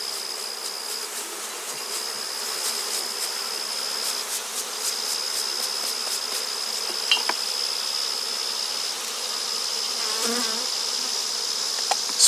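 A jar of live honey bees gives off a steady, dense buzzing hum that stays even and moderately loud throughout, with no voices.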